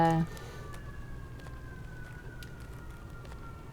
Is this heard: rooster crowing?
no